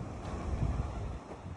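Wind at the seaside buffets the microphone with a low, continuous rumble and gusty hiss, steady and close, with no voices.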